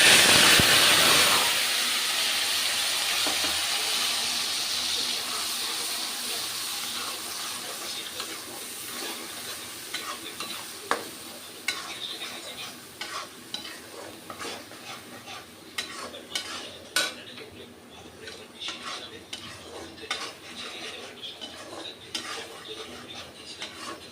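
Onions frying in a pan with a loud hiss at first that settles into a steady sizzle, overlaid by frequent metallic clinks and scrapes of stirring.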